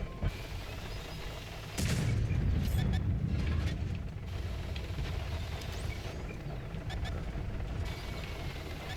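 A tank cannon in a tank video game fires at an IS-7, giving one heavy boom followed by rumbling engine noise and clanking, with sharp smaller reports scattered through the rest.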